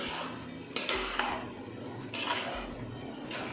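A spoon scrapes and knocks against a pan while elephant foot yam curry is stirred, with several sharp metallic clinks over a steady scraping wash, close and moderately loud, no talking.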